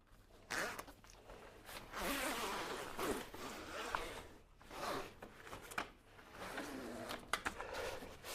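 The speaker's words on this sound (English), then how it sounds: "you can zip up the bottom pad" A zipper drawn along the bottom pad of a two-bar anti-entrapment bed bumper, several short rasping pulls with pauses between them, close and fairly quiet, with no talk.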